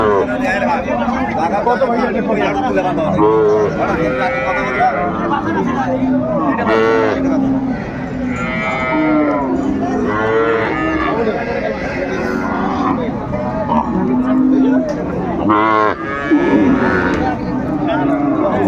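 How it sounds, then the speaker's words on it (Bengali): Cows and calves at a rural cattle market in Dinajpur, low moos rising repeatedly over a dense hubbub of crowd chatter and nearby talking. "এই হচ্ছে গাভী"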